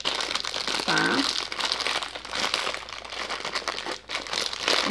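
Plastic wrapper crinkling steadily as an Easter egg toy package is opened, a close, continuous rustle, with a woman's brief high vocal sound partway through.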